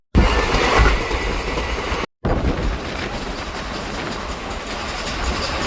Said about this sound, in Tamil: வண்டி வந்து ஃபுல் ஸ்பீடில் கடப்புற கிராஸ் பண்ணி போகுதுங்க